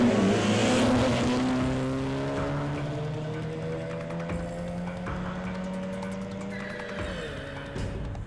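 Several cars rev and accelerate on a dark road at the start of an illegal street race, engines rising in pitch together, loud and close at first and then easing into a steady roar.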